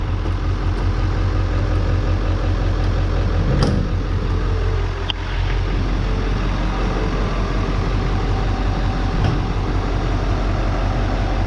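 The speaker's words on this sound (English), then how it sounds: "If you can't tell by the sound of it, it's running really good right now." Idling Ford 7.3 Powerstroke diesel in an OBS truck, a steady low rumble with a constant drone, running smoothly inside a closed garage with no other sounds.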